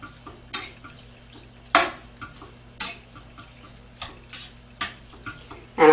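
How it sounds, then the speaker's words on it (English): Meat cooking slowly over a low flame is stirred in a pan, giving sharp, intermittent utensil scrapes and clinks about once a second over a quiet background hum. "I'm going to keep stirring this because it sticks together"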